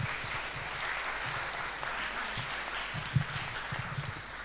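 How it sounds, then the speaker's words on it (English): Audience at a live startup pitch event applauding, a faint, steady wash of clapping heard from a distance. "Big applause."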